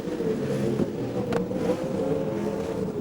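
Race cars roaring around a track in steady, continuous engine drone, loud and sustained with a brief higher burst midway, no talk over it.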